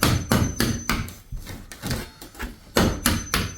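Someone chips off old cornice cement with sharp, repeated hammer-like knocks and scraping impacts in an uneven rhythm, close and fairly loud.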